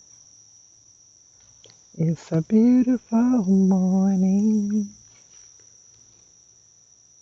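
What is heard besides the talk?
crickets chirping outdoors in the morning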